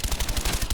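Rapid automatic gunfire from a weapon in Black Ops 1, a burst of about eight evenly spaced loud shots over under a second, with no talking.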